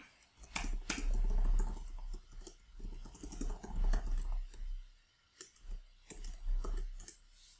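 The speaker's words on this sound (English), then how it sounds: "And I type the number 8." Keys tapped on a computer keyboard in short, irregular bursts of quick clicks, close and fairly quiet, with no voices.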